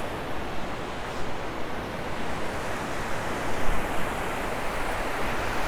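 Ocean surf washes continuously on Sanibel beach, a dense steady roar of breaking waves with gentle swells in loudness, close and enveloping, mixed with some wind buffeting the microphone.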